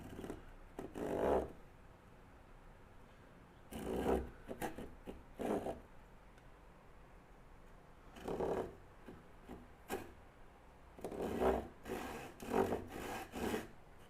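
A backsaw cuts through a piece of wood clamped down by a holdfast, sounding as rhythmic rasping strokes in close bursts with short pauses between groups of strokes.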